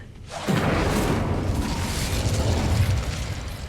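The Incendio fire spell cast in Hogwarts Legacy bursts in with a sudden whooshing boom, then a roaring, crackling fire carries on steadily and fairly loud for several seconds, with no talk.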